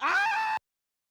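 A cat gives a single drawn-out meow, loud and close, with a rising then steady tone lasting about half a second before cutting to silence.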